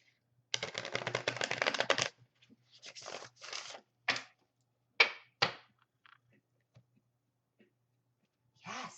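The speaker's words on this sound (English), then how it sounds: "I'm so loud when I shuffle." Tarot cards are shuffled loudly in a dense riffling burst lasting about a second and a half, followed by several shorter separate bursts of card handling and snapping, up close with no talking.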